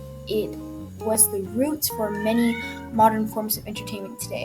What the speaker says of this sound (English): Also, sorry about my cat.